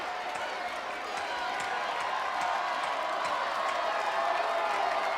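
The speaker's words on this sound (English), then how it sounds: "Listen to the crowd bringing Heather Bond home." Arena crowd at American Gladiators cheering a contender on the treadmill event, a steady broad roar of voices sustained throughout, with faint whoops and scattered clapping mixed in.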